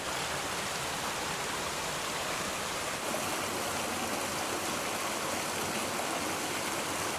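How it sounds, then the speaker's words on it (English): A mountain stream rushes steadily at a trail crossing in the Great Smoky Mountains, a continuous broadband wash of water that is close and even from start to finish, with no voices. "we've had a good amount of stream crossings this morning. This is a pretty one though."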